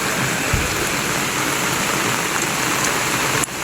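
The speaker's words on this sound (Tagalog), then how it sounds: "Kusog man ang ulan." Heavy rain pours at a farm campsite, a loud, steady wash of broadband hiss with no letup from start to finish.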